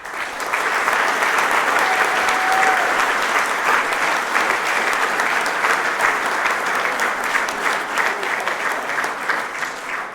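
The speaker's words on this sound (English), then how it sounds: "please join me in a round of applause for the people behind the scenes to make this event possible" An audience at a military awards ceremony gives a sustained, loud round of applause, a dense steady wash of many hands clapping for about ten seconds with a slight fade near the end.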